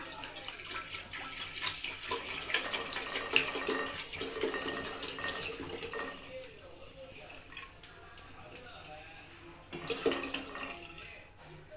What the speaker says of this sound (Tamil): இப்போ நம்ம வந்து பால் சேர்த்துக்கலாம்